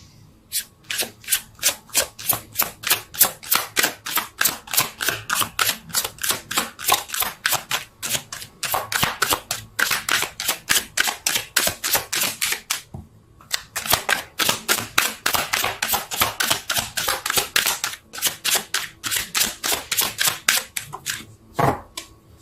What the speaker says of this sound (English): Let's see if I can shuffle.